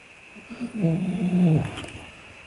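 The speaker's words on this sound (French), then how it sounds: "En fait c'est le chien docteur qui ronfle." A dog snores nearby with a single drawn-out, throaty rasp that swells and fades over about a second, heard against a faint background hum.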